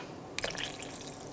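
Milk pours into a bowl holding flour, egg, salt, sugar and activated yeast for an orange rolled brioche dough: a faint, brief liquid splash and trickle lasting about half a second in a quiet room.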